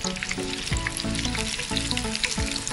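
Paneer cubes fry in hot oil over a high flame for paneer chilli, giving a close, steady crackling sizzle with occasional stirring scrapes, and no voices.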